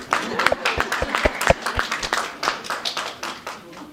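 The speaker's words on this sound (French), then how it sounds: "Ça s'applaudit s'il vous plaît." Scattered audience applause at an African fashion week event in Paris, a few sharp claps standing out over a busy crowd with voices mixed in, fairly close and moderately loud.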